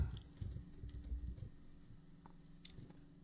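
Quiet, rapid clicks of typing on a computer keyboard, a close, soft patter of keystrokes that thins out toward the end.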